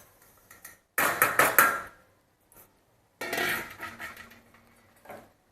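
Crushed sev stirred into a pot of sugar syrup, heard as bursts of scraping and clinking from a spoon against the pot, in two main clusters with short pauses between.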